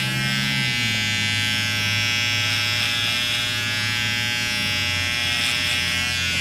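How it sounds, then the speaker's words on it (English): A hair trimmer cutting over a comb gives a steady, close electric buzz for the whole stretch, with no talking. "You can always use trimmer over comb."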